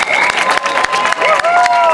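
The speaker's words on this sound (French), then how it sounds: "Hey, applaudissez les jeunes." A close crowd at a large street march in Montreal's Place des Arts claps and cheers steadily, dense applause with whistles and shouted voices throughout.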